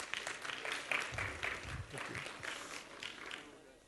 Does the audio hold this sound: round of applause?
yes